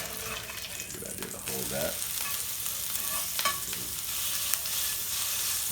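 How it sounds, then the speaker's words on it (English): Meat frying in a pan for an omelet sizzles steadily while a spatula stirs and flips it, with scraping strokes over the hiss and a brief spoken remark. "It shouldn't take that long to cook, so we're going to flip it right now."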